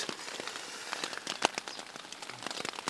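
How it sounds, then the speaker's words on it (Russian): Steady patter of rain striking a taut tent fabric surface close by, dense irregular drops with a few louder splats, no voices. "Как видно, у нас тут дождь идет."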